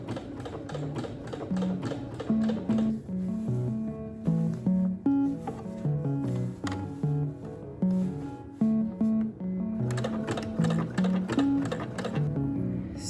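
Sewing machine stitching a quilt, with bursts of rapid mechanical clatter that start and stop in short runs. Tonal notes play over it throughout, as if music is on nearby, and no one speaks.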